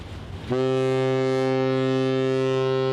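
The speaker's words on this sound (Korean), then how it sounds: "이윽고 들리는 커다란 화물선의 기적 소리." A deep, loud cargo ship's horn sounds after a brief windy hush near an open harbour bridge in the Caribbean, holding one long, steady, droning blast to the end.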